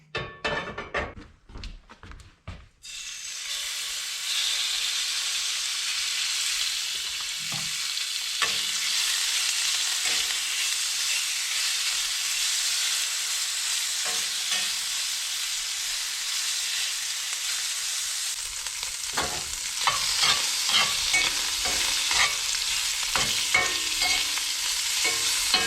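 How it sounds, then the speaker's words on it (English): Bacon grease heating in a pan, a loud, steady sizzle that starts after a few seconds of clatter and continues close and unbroken, with occasional light knocks and pops. "get a little bit of this bacon grease heating up in there"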